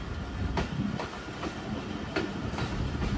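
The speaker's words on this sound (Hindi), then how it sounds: "104 डाउन सुबह करम rail car Jhelum railway station पे अप्रोच कर रही है" A Subak Kharam railcar, the 104 Down service, rolls into Jhelum railway station in Punjab, its wheels beating a steady clickety-clack over the rail joints in a regular rhythm above a continuous rumble, close and fairly loud.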